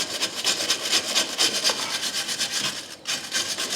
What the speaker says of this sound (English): I want to get all the corrosion off of here that I can.